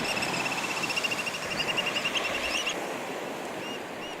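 Oystercatchers on a bay shore give repeated high piping calls in a quick series over steady surf and wind, loud for about two and a half seconds, then fading to a few scattered calls.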